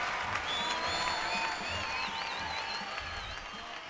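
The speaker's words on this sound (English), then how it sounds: "Taking the applause tremendously." Audience applause fills the hall at an amateur European dance championship in Finland, a steady wash of clapping with some crowd noise and faint whistle-like tones over it, continuous for about four seconds.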